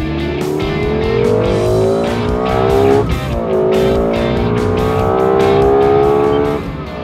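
Lexus LFA sports car accelerating hard, its engine pitch climbing in long sweeps through quick gear changes, loud and close with tire noise mixed in.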